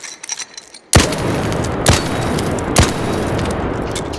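Three loud, booming gunshots from a video-game weapon fitted with a muzzle brake, fired about a second apart, each with a long rumbling tail and no talking.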